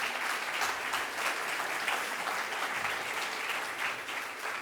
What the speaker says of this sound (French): Si vous voulez bien applaudir nos deux intervenants.